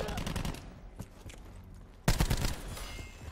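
Gunfire in a multiplayer first-person shooter: a rapid burst of shots at the start, a quieter stretch, then a louder close burst near the end.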